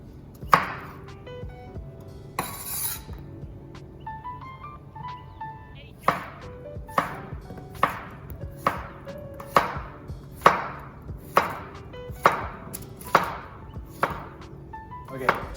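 A knife chops zucchini into quarters on a cutting board in a home kitchen, a steady run of sharp, close taps that comes in bursts and then settles into a regular rhythm, with light talking faintly underneath.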